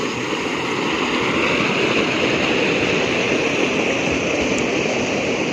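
River water flowing steadily near a riverbank by a temple in the evening, a dense, continuous rushing wash with no breaks, loud and close throughout.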